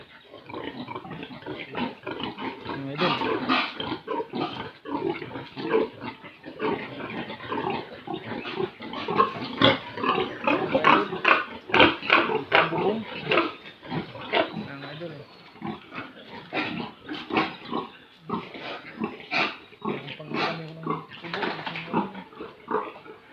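Pigs grunt and squeal continuously at close range on a pig farm whose building and roof were wrecked by a typhoon, with someone talking over the animals throughout.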